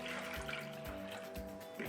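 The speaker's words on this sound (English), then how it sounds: "So we're just going to put the water" Warm water pours steadily into yeast for bread dough, a continuous close trickle and splash at moderate level with no talking.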